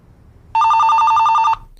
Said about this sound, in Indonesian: Veronica malam itu mendapatkan telepon dari Bobby yang menanyakan tentang keberadaan buku catatan milik Harry